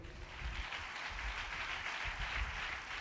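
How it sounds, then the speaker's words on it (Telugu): A Sunday service congregation claps together in a continuous, even round of applause, fairly faint and distant, with no talk over it. "ఒకసారి చప్పట్లు కొట్టండి"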